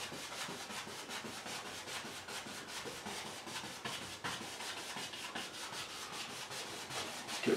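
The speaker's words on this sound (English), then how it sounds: "Very light crisscross strokes." A paint brush making very light crisscross strokes on canvas, a soft steady brushing rub repeating in quick rhythm, close and quiet with no voice.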